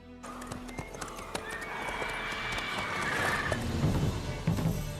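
Roach, Geralt's horse in The Witcher 3, galloping with quick clip-clop hoofbeats and a whinny, set amid ambient game sounds that grow busier toward the end, with no talking.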